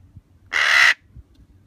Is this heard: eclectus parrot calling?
yes